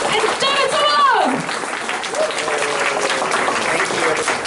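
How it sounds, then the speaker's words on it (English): Applause from a convention audience for an animation panel of voice actors, loud clapping that swells early and then tapers, with a presenter's voice over the start and cheering mixed in. "Please, going to be a huge round of applause for Mick Wingert and Sobolov"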